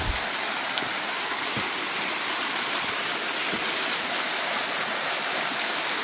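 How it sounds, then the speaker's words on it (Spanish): A waterfall cascades over rocks in a steady, loud broadband rush of falling water, continuous and close with no voices over it. "Los lugares hermosos donde las cascadas cobran vida"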